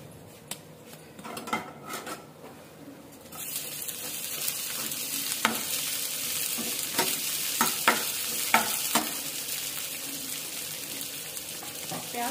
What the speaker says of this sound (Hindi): अब इसके अंदर प्याज डालेंगे।